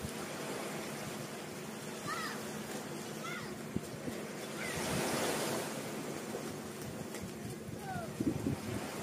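Waves and surf wash steadily against an island shore as a boat comes in, with wind buffeting the microphone and a few brief voices and calls breaking over the water noise.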